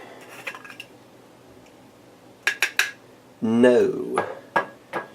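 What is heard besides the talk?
herb grinder being handled and tapped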